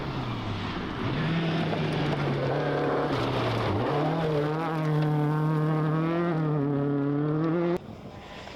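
A rally car races over loose gravel on a Welsh stage rally, its engine note climbing steadily through a gear change. It sounds loud and close, with a brief drop at the shift, then cuts off abruptly near the end.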